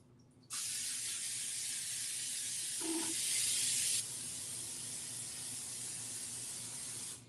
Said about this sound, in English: I always spray upside down.